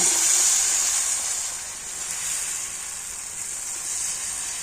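Paratha batter sizzles in white oil on a hot pan, a steady bright hiss that starts loud, dips slightly and holds on, with no voices over it.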